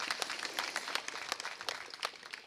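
Applause for graduating students at a high school graduation ceremony: a crowd of dense, steady clapping held at moderate level throughout, with no talk over it.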